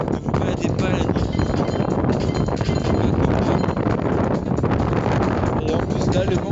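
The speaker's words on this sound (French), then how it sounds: "le vent commence à se lever énormément" Strong wind blowing outdoors at night, a loud, steady roar buffeting the microphone without a break.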